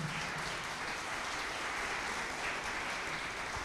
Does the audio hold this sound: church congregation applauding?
yes